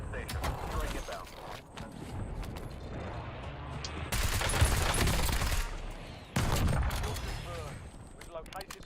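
An airstrike in the Call of Duty video game brings rapid bursts of gunfire and heavy explosions. Loud blasts surge twice under shouted radio chatter, and mechanical clatter fills the gaps between them.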